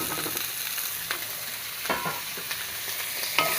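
Chopped ivy gourd frying for a thoron with curry leaves and rice, a constant bright sizzle punctuated by sharp scrapes and taps of a spoon stirring the pan, close up and without any voices.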